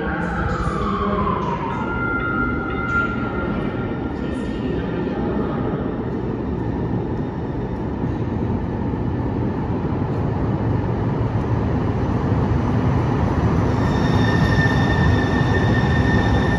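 A Seattle Link light rail train runs through a tunnel once shared with buses, with a loud, continuous rumble of wheels on track, high metallic squeals rising and fading, and a steady rolling roar throughout.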